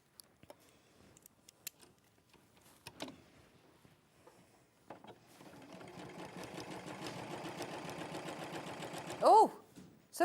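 A sewing machine stitches a row of quilt pieces, starting after some quiet clicks and handling noises and running in a steady, fast mechanical whir for several seconds, fairly faint, with a brief voice near the end.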